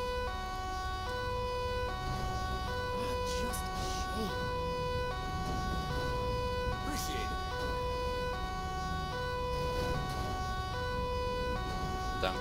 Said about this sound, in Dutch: Want die sirenes maken me gek.